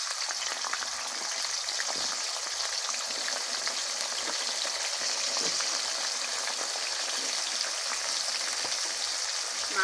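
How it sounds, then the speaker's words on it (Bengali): Malabar spinach leaves frying in oil for a chicken curry, a dense continuous bright sizzle with fine crackling, close and steady throughout, no talking. "এই তেলে পুঁই শাকগুলো একটু ভেজে নিচ্ছি।"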